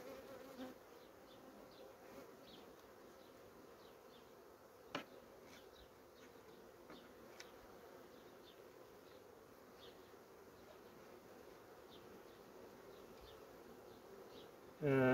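Honey bees hum steadily around a hive being treated for brood varroa, a faint continuous drone with scattered closer buzzes passing by, and a brief bump near the end.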